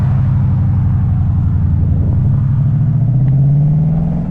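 A Ford Mustang 5.0 V8 rumbles deep and loud at close range as it pulls away onto the road, the engine note rising toward the end as it accelerates.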